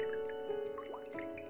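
A container is filled with water in a video game, giving a short burst of bubbly dripping and gurgling over a steady tonal hum.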